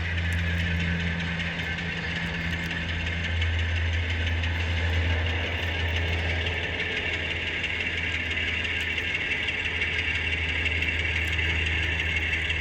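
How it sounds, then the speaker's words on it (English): An eastbound Cincinnati-Parkersburg freight train rolls into the Chillicothe yard, a steady diesel engine drone and rumble with a constant hissing wash, sustained and fairly distant. "the eastbound train is basically coming into town at the moment"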